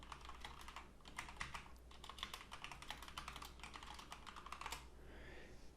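Rapid, steady keystrokes on a computer keyboard as a search query is entered on YouTube, a close, continuous clatter of clicks for about five seconds with no talking.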